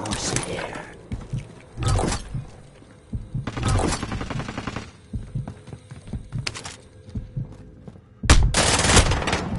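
Bursts of video game gunfire from a zombie horror shooter, loud clustered volleys separated by quieter stretches, with a heavy final barrage at the end.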